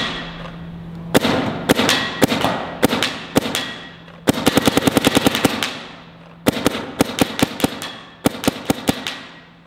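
A DLX Luxe X paintball marker fires in loud, close bursts of sharp pops, rapid strings of shots separated by short pauses, with a steady low hum underneath between volleys.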